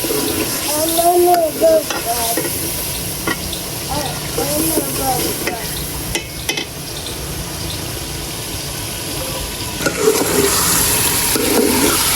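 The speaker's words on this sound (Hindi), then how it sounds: "मसाला हमारा बाकी का फ्राई हो रहा था और साथ ही मैंने अदरक लहसुन कूट लिए हैं, इन्हें भी मैं इसमें शामिल कर देती हूँ।" Masala frying in a pan in a village kitchen as crushed ginger and garlic are added, a steady close sizzle with stirring and scraping throughout, with a voice talking over it at times.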